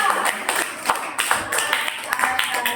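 A class applauds a student group, with a small cluster of quick, uneven hand claps close by and some voices mixed in.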